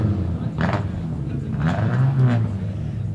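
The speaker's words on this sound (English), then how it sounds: "You can hear the car still running on only 3 cylinders, which is a bummer." A rally car engine misfiring on only three cylinders idles roughly nearby at a service stop, an uneven, lumpy low rumble, steady throughout with a few brief higher surges.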